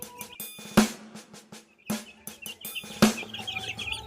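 Boston Roundhead and SBR chickens in a coop, several sharp clucks and chirps scattered among short bursts of rustling, close by.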